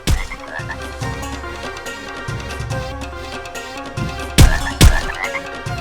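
Frog croaks during a fight in the video game Carter's Quest, rising over a busy, continuous game music bed, with two sharp, louder hits near the end.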